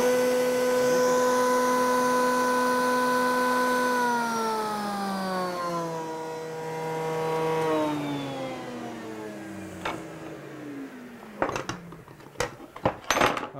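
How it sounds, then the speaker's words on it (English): A router table motor with a large panel cutter bit winds down in pitch as the speed is slowed, a steady whine gliding lower, followed by a few sharp knocks and clatters near the end. "you want to slow the speed of that router down a little bit because it's a large cutter."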